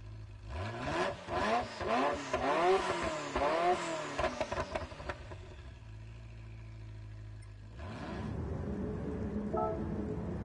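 A Ferrari F40 in Gran Turismo Sport, its engine revving hard through repeated rising gear pulls with shifts, then settling into a steady drone before picking up again, loud and close with no talk.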